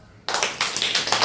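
Children in a classroom break into sudden group clapping, a fast loud burst of many hands with a few rhythmic swells, following a brief quiet moment.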